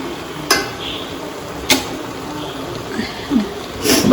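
Rice for biryani being stirred in a pot, a few scraping clinks of the spoon against the metal at irregular intervals over a low background hiss.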